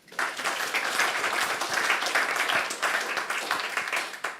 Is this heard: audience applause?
yes